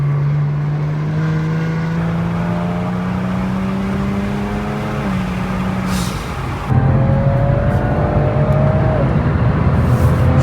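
A Kia Stinger accelerates hard after a downshift, its engine note climbing steadily in pitch, dropping briefly at a gear change around six seconds, then rising again louder and close, with no talking.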